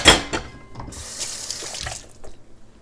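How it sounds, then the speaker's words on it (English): Running water pours from a kitchen tap while fingertips are rinsed clean of cookie dough, a close splashing hiss that swells for about a second and then tapers off. "Rinse my fingertips off."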